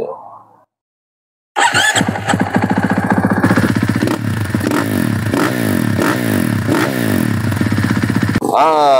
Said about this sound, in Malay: itulah bunyi engine yang baru rebuild